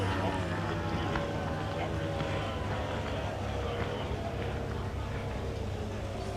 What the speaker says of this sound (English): We can hear one of the blown alcohol displacement boats idling in the pits